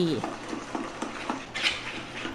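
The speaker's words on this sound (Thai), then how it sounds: "คนส่วนผสมทุกอย่างให้เข้ากันดี" Red curry paste, coconut cream, sugar and fish sauce stirred together in a bowl, giving a series of soft scraping and tapping strokes in an irregular rhythm, close by with no talking.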